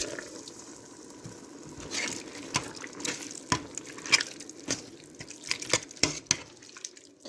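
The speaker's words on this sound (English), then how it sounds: "I'll probably put like a cup of water in there" Water is poured from a cup into a cooking pot holding sausage and tomatoes, a soft trickle with scattered drips and small splashes building in the second half, close and quiet, no talking.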